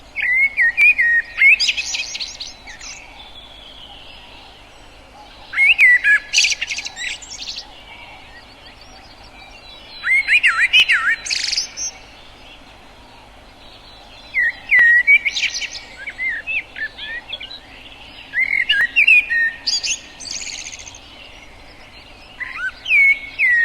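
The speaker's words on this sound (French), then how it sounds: "Lorsque le merle chante, on dit qu'il siffle, flûte ou babille." A common blackbird sings in a forest, fluting and whistling phrases delivered in loud, clear bursts roughly every five seconds with quiet pauses between, alone with no talk.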